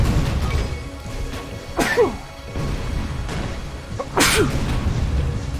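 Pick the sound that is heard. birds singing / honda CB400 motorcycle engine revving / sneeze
sneeze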